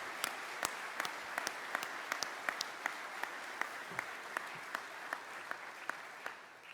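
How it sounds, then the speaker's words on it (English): An audience at a veterans' organization business session gives a round of applause, a sustained mass of clapping with some sharper individual claps standing out. It stays steady for several seconds and no one talks over it. "And let's give them a round of applause."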